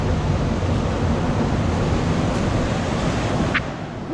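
Ocean surf washing up a beach as the tide rises, a steady broad roar of breaking waves close by with wind buffeting the microphone, no voices.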